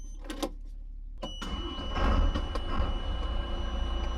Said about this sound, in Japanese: じゃあエンジンかけて